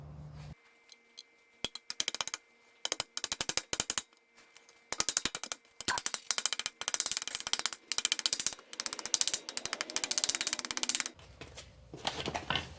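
A ratchet backs screws out of a rear main seal installer on an LS 5.3L engine being swapped into an RX7, giving repeated bursts of quick, dry clicking with short pauses between them, close and crisp.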